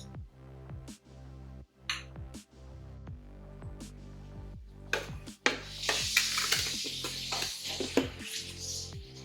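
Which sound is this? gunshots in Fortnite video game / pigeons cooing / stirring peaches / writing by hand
stirring peaches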